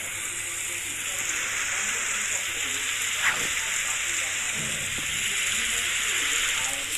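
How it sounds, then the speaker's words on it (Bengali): Rain falls steadily in a Roblox game as a constant even hiss, with a few faint soft knocks in the middle and a voice speaking now and then. "ভাই বৃষ্টি পড়া শুরু করছে।"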